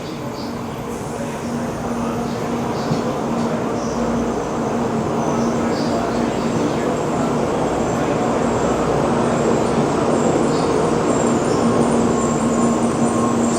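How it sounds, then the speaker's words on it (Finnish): Japanese bullet train pulling into a station, a steady loud broadband rush and rumble with a faint tonal hum, continuous and even throughout without voices. "Sieltä tulee meidän luotijun"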